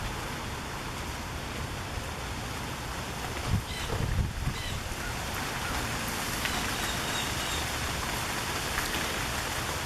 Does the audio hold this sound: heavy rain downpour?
yes